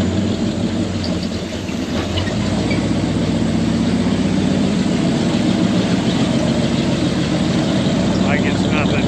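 Engine of a Scrambler off-road vehicle running and warming up, a steady low rumbling drone throughout, fairly loud and close, with people talking over it.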